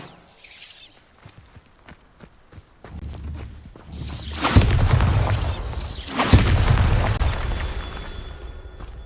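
A Bombarda spell detonates in Hogwarts Legacy, first light footsteps and small clatters, then a loud booming blast with shattering debris that rumbles on and swells again before fading.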